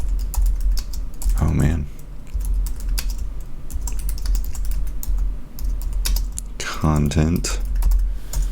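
Steady computer keyboard typing runs throughout, entering text on a product landing page design, with brief spoken remarks over the clicking near the start and again near the end.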